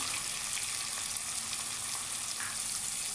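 Onions frying in a pan for pav bhaji give a steady, dense sizzle with a faint hum underneath, continuous and close, with no voices.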